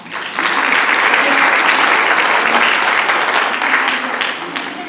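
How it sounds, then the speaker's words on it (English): Sustained audience applause at a political listening-party event, a dense, steady roar of many hands clapping that swells in within the first half second and holds evenly loud throughout, with no voices standing out. "Let's give everyone a little round of applause"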